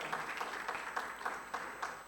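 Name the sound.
church congregation applause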